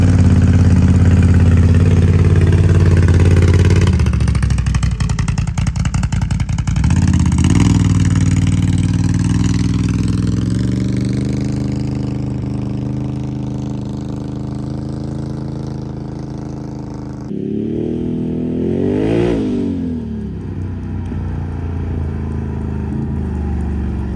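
A 2022 Can-Am Outlander XMR 850 ATV engine idles loudly up close, then revs through several rising and falling throttle sweeps, with a sharp rev burst near the end.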